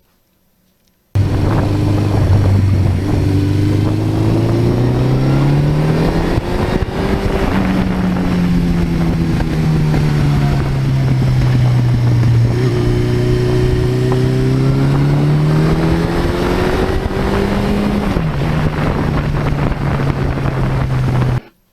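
A 1982 Suzuki GS1100E motorcycle engine on an autumn ride, its steady loud drone rising and falling in pitch as the throttle is rolled on and backed off, with wind rush throughout and no talking.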